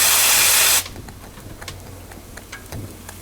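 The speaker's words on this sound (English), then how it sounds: "That's it there, 250 psi, blowing off steam merrily." A steamroller boiler's safety valve blows off steam at 250 psi, a loud rushing hiss that cuts off abruptly after under a second, leaving faint ticking and clicking behind.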